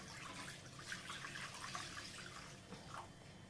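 Water poured into a cooking pan for homemade chicken soup, a steady continuous splashing and trickling stream, close and fairly soft, with no voices.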